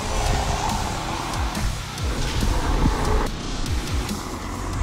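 A 2018 BMW X2 SUV drives off, its engine note rising and falling with gear changes over a steady road rumble, heard from inside the car.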